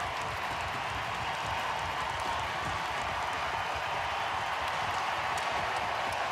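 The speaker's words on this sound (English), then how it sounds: "the crowd saluting the Flyers" A large arena crowd at a Stanley Cup playoff hockey game between the Flyers and Hurricanes applauds and roars in a steady, dense, distant wash of clapping and cheering.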